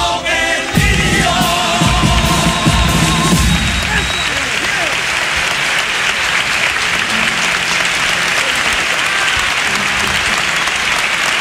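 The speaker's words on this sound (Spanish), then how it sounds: "Pues ya ven cómo aplaude el Gran Teatro Falla esta copla" The crowd at the Gran Teatro Falla in Cádiz erupts into loud, sustained applause for a carnival comparsa's song, with cheers over the start and a dense roar of clapping that holds steady to the end.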